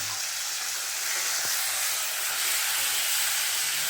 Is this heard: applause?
no